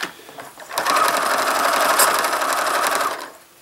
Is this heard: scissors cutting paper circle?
no